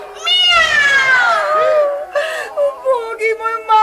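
Cat meowing in a long, drawn-out wailing cry followed by a few shorter mews, close and loud, apparently voiced by a person imitating a cat.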